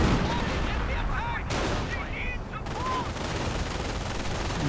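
Howitzer artillery fire in a World War II strategy video game: loud, dense booms and crackling blasts overlapping continuously, with brief whistling tones rising over the din.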